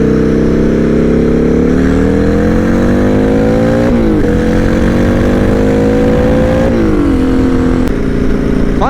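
A turbocharged Buell M2 Psiclone motorcycle rides at speed, its engine loud and close, climbing steadily through gears with brief dips at each shift and constant wind rush.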